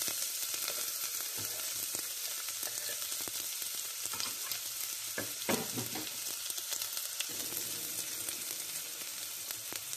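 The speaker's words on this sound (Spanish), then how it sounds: "Vamos a rehogar la mitad de una cebolla y 2 dientes de ajo." Half an onion and two garlic cloves sauté in oil in a pot, a steady soft sizzle through the whole stretch with a few sharper crackles and utensil scrapes near the middle.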